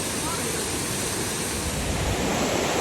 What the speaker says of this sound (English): So we found this waterfall here and did some looking, and Rex went in the water.